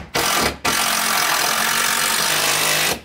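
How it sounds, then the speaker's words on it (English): A power drill bores a pilot hole into a wooden board, a loud, close, steady whirring grind that starts after a brief stop-start and runs about three seconds before cutting off. "So I'm just gonna drill a little pilot hole right here."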